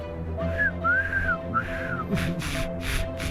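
Several rising-falling whistled notes, clear and fairly close, followed by breathier whistle bursts, with a low steady hum in the background.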